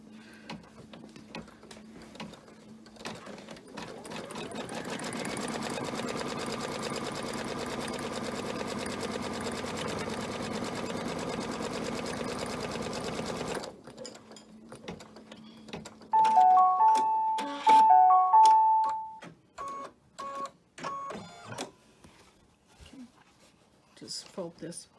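A sewing machine stitches fabric for a 4th of July flag banner in one long steady whirring run, then stops; afterward clicks and handling noises follow with a person speaking.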